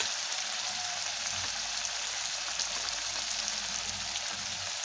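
Steady sizzle of frying in hot oil for kapun vadyanchi amti, a Marathi curry, holding an even, dense hiss close up throughout with no talk.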